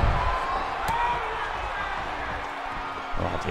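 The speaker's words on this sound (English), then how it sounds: "Lively crowd here in Liverpool tonight." Lively wrestling crowd at an indoor show in Liverpool, a steady raucous roar of voices filling the hall with a few louder swells, continuous throughout.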